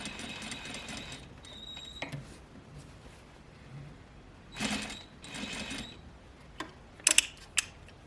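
A sewing machine stitching a single welt pocket whirs quietly in short runs, with soft clicks and sharper mechanical taps near the end as the needle goes down and the foot is lifted to pivot.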